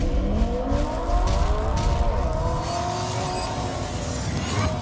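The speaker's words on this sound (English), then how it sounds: "Rev up your engines!" Car engines rev loudly and continuously, a racing-style roar with shifting pitch sweeps as the vehicles accelerate, close and dominant throughout with no talk.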